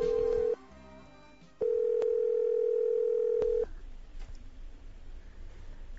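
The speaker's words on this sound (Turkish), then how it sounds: "Ben telefon açıp geleyim" A telephone dial tone during a phone call, a steady pure tone that breaks off, then returns for a longer held stretch before it stops, with faint clicks and a quieter line hiss afterward.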